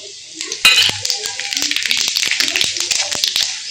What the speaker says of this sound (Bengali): এখন আমি এই যে জিরা আর তেজপাতা দিয়ে দেবো তেলে।